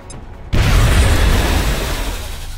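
Frag grenade blast in XCOM: Enemy Within, a sudden loud boom that follows a brief bit of faint voice and then rumbles on as a heavy, sustained roar.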